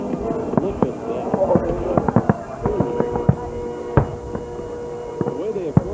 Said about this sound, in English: we have fireworks going off within fireworks